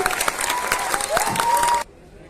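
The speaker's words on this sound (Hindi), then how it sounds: "जरा जोरदार तालियां इनके लिए।" Audience at a Hindi poetry gathering (kavi sammelan) applauding poets on stage, a dense burst of clapping with some cheering and a voice over it, cut off abruptly near the end.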